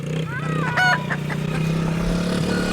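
Farmyard chickens cluck and squawk around feeding time with a couple of sharp calls early on, over a steady low hum and some background voices.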